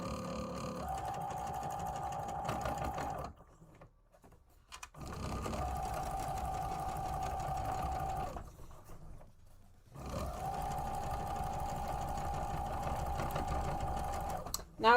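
A sewing machine stitches in three long, steady runs, each a loud, even mechanical whir, separated by short pauses, heard close up and alone.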